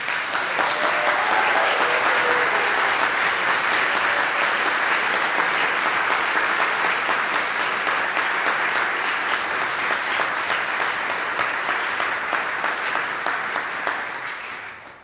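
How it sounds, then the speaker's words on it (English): Sustained applause from an evening music-competition audience honoring all the performers, a dense, steady wash of clapping that runs unbroken for about fifteen seconds before fading at the very end. "join me in one more round of applause for all of the performers"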